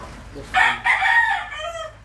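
A Sweater Gilmore gamefowl rooster on a game farm gives one loud, close crow that rises sharply, holds, and trails off, with no talk over it.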